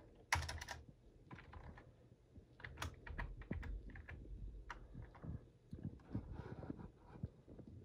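Computer keyboard keys clacking in irregular bursts while a name is typed into a PC setup screen, close and fairly quiet, with short pauses between runs of keystrokes.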